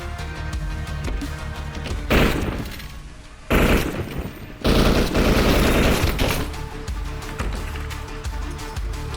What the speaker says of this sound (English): AK-103.